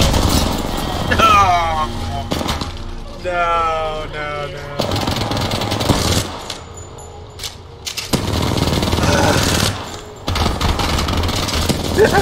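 Turret fire in the game Apex Legends rattles in rapid bursts amid other gunfire and game effects, loud and close, with excited talk from a player over much of it.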